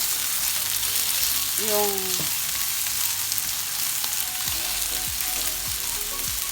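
Chopped onion frying in oil for chicken biryani, a steady broadband sizzle that runs without a break from start to end, broken by a few soft clicks of stirring and a short voice partway through.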